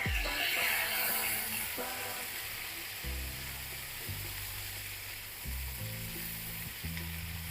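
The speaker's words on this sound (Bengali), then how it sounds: "এজন্য আমি পটলটা খুব ভালো করে ফ্রাই করে নিব" Pointed gourd (potol) fries in hot oil with turmeric, giving a steady close sizzle broken by repeated low spatula knocks and scrapes against the pan.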